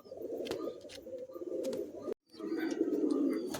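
Madrasi pigeons coo steadily at close range, low throaty calls repeating, broken by a brief silent gap.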